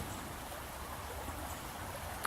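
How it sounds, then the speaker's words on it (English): Small creek at a campsite flowing steadily, a soft continuous wash of water with no talk, constant level and one faint click near the end. "this is our little creek area"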